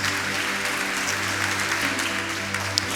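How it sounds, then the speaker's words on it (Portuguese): Audience applause at a church sermon, a dense, continuous clapping wash filling the hall for the whole stretch, with a low steady hum underneath. "pode dar uma salva de palmas para Jesus."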